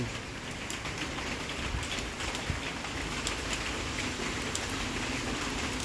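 Light drizzling rain falls steadily under a dark sky in Bang Yai, a continuous soft hiss with faint scattered patter of drops, no voices.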